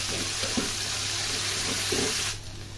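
Potatoes, onions and chillies frying together in a wide open wok, a dense, loud, steady sizzle with faint stirring scrapes underneath, cutting off abruptly near the end.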